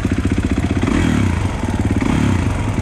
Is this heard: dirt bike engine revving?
yes